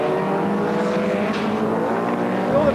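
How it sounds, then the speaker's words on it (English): MG Metro 6R4 four-wheel-drive rallycross car, around 600 horsepower, racing at the 1988 British Rallycross GP, a loud, steady engine roar held at high revs for the whole stretch. "driving a 600 horsepower four-wheel drive car, broadside at 120 miles an hour"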